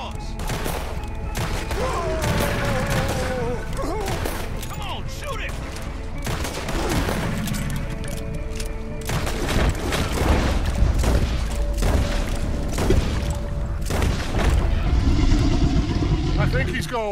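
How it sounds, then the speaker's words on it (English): Rapid gunfire crackles in a Red Dead Redemption 2 shootout, dense volleys of shots and booms continuing loudly throughout, with voices shouting in the game. "Keep shooting!"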